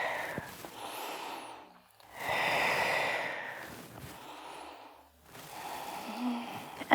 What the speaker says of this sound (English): Inhaling up and around, exhaling down and around.